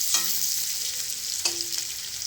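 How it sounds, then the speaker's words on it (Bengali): Paneer cubes fry in a pan with a steady sizzle, while a couple of sharp scrapes and clinks from stirring stand out against the hiss and no one speaks. "পনিরটা ভাজা হয়ে গেলে একটু লাল লাল যখন হয়ে যাবে ভাজা"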